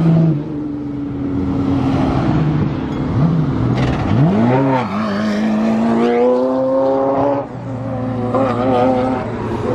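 A Bugatti EB110 and a Ferrari F40 LM hypercar drive past at a supercar owners' gathering, engines revving and rising in pitch as they pass close by, loud and alone.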